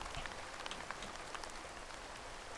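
Steady rain falls across a garden scene in the video game Horticular, a continuous hiss of dense drops with scattered brighter patters, with no voices over it.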